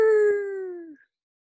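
A voice imitates car tires whirring around a corner too fast, a single sustained wailing tone that slides slightly downward and fades out after about a second, heard alone.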